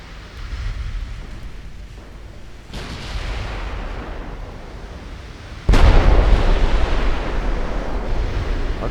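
Big naval guns fire in the warship game Ultimate Admiral Dreadnoughts, 1931 USA fleet: deep booming blasts, one around three seconds and a heavier one near six, each rolling into a long rumbling roar over constant sea noise.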